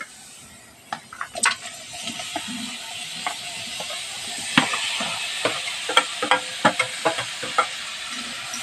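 Mango mixed with sugar and vinegar sizzles as it is stirred in a hot wok for Burmese mango pickle, a soft steady hiss broken by repeated scraping clicks of a utensil, close and moderately loud.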